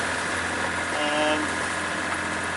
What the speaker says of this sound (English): We are just running with a Genoa and the engine at the moment.